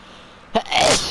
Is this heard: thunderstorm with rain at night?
no